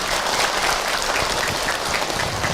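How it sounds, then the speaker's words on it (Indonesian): An audience of mostly women at a Ramadan religious gathering applauds in a loud, steady, continuous clapping that fills the room. "Tepuk tangan Ibu untuk Ahilman."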